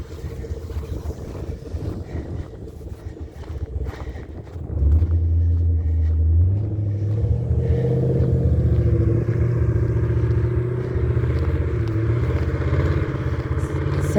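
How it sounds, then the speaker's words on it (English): A car with a faulty, loud muffler drives past on a windy outdoor street, its low rumbling engine drone swelling up nearby and holding steady amid wind noise. "Sounds like he's got some muffler problems"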